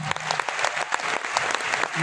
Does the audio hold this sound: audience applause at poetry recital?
yes